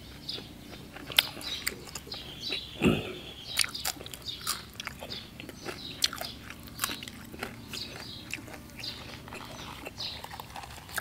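Crisp fresh vegetables are crunched and chewed alongside freshly steamed rice and a fresh raw beef dip, producing close, loud, irregular crunchy bites and chewing clicks throughout, with a brief voice sound partway through.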